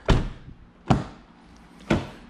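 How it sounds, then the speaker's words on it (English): A rear door on a 2013-2016 Infiniti QX60 is opened and shut three times in an even rhythm, each a sharp, close thunk with a brief latch click, separated by quiet pauses. "Go ahead and test your door"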